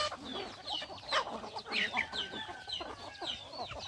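Chickens cluck and chatter nearby in a garden, overlapping short calls from several birds in a busy, continuous flock.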